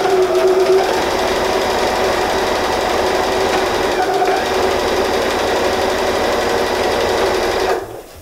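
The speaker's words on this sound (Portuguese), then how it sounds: "Também vou fazer uma costurinha de segurança." Sewing machine running a safety seam along a fabric book cover, a loud close steady rapid stitching whir that holds for about eight seconds, then stops abruptly.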